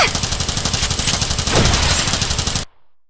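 Rapid weapon fire in the mobile game Starseed: Asnia Trigger, a loud, dense stream of evenly spaced shots sustained for over two seconds before cutting off abruptly into silence.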